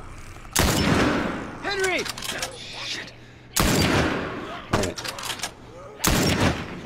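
Heavy gunshots ring out in The Last of Us, four loud, booming blasts spaced a second or two apart, with a short word spoken between them and quieter game ambience underneath.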